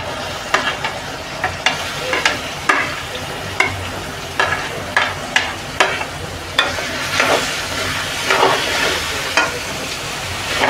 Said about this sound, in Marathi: आलं लसूण पेस्ट थोडी परतली ना आपण कांदा घालून घेऊया.